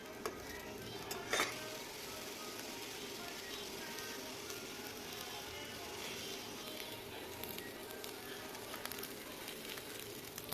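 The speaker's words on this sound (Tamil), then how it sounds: "சிம்லேயே வச்சு நல்லா வதக்கிக்கோங்க" Halved tomato sautés in a pan on a low flame for an onion chutney, a quiet, even sizzle with occasional stirring clinks and one brief knock near the start.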